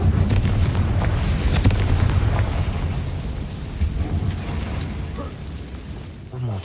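A Confringo spell blasts in Hogwarts Legacy: booming bursts crack in the first couple of seconds, then a rumbling tail slowly fades, with another small pop near the end.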